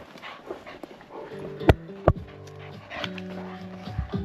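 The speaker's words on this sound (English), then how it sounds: "we'll just kit these dogs up and we'll head out" Farm dogs being readied for a walk pant and let out high, whining whimpers near the listener, with a couple of sharp knocks or yips in between.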